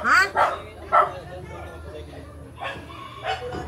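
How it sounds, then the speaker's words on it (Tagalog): A dog barks several times in quick yelping bursts, close and loud, then a couple of fainter barks follow amid background noise and voices. "May aso po dyan eh."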